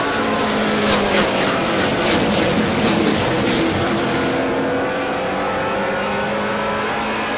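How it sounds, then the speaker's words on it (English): Race cars at the Oktoberfest race in Wisconsin roar as the pack accelerates out of turns 3 and 4 toward the green flag, a loud, sustained blend of engines rising in pitch with overlapping revs. "Through turns 3 and 4, the pace picks up, looking for the green flag, and we're racing at Oktoberfest."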